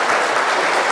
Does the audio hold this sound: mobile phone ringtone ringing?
no